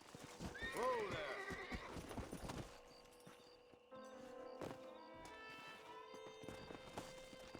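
A horse in the Western video game Red Dead Redemption clops along and lets out a loud whinny up front, then slows and stops as quieter game sounds and a voice follow.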